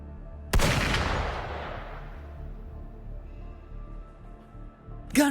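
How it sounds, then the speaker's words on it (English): A single loud gunshot cracks in a video game and its boom decays over a few seconds, followed by a brief sharp sound at the end. "Gunfire! We've got intruders."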